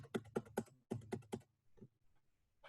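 Keys clack on a computer keyboard in two quick bursts of taps, then a few isolated strokes, close and fairly quiet.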